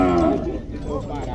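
A bull lows loudly and close at a cattle fair in Tabira, Pernambuco, with a crowd murmuring behind it.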